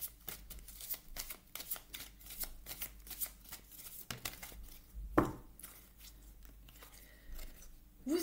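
Tarot cards are shuffled and drawn close by, a rapid run of crisp riffling flicks followed by a few slower slides and slaps of single cards, with faint talk in the background.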